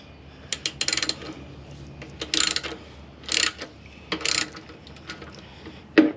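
A ratchet tightens bolts while a Yamaha VF200LA outboard is installed, short bursts of rapid clicking repeated several times with pauses between, close and without talk.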